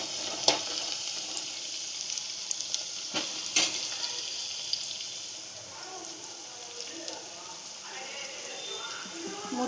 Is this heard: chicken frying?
yes